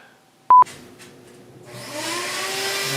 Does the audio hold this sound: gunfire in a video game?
no